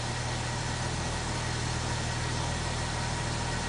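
A 1947 International Harvester KB-1 panel truck engine idles cold with a steady, even low rumble, loud and close, running alone without talk.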